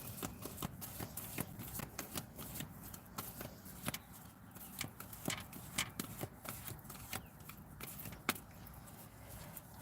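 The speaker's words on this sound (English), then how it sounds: "let's try one more shuffle" Cards riffled and shuffled by hand, a steady flurry of soft papery flicks and taps close by, with no talking.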